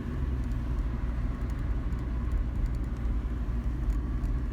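Steady, low engine rumble and road noise from inside a moving car, continuous and even throughout with no talking.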